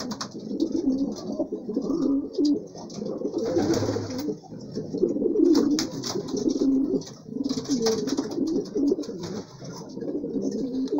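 Homing pigeons coo continuously in soft, rolling, overlapping calls from close by, with faint higher chirps and rustling mixed in.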